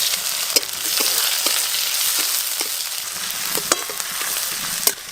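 Chopped onion and whole cumin sizzle in hot oil for dry bhindi, a steady close crackling broken by sharp clicks of stirring scattered throughout, with no talking.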